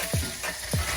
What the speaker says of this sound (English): You got to hear that nice crackle, that sizzle. That's when you know things are cooking.